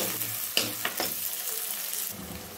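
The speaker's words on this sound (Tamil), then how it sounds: "வெங்காயம் நல்லா வதங்கட்டும்." Onions sauté in a pan for Nethili anchovy fish curry, giving a soft steady sizzle. A couple of quick stirring clinks land early on, and the frying continues quietly without speech.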